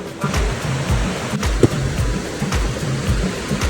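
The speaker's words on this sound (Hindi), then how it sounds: "यहाँ पर लोग मीठे पानी के झरने में नहाते हुए" A freshwater mountain waterfall on the Rudranath trek, where people bathe, gives off a steady, close rushing roar of falling water with no pauses.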